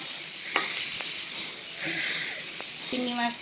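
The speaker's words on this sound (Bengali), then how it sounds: "কলার মোচা ভাজি করবো, তা আপনারা দেখতে থাকুন, আমার এটা ভাজা হোক।" Shrimp and banana flower frying in a pan give off a steady, close sizzle with a few sharp stirring clicks and scrapes, plus a faint voice-like tone near the end.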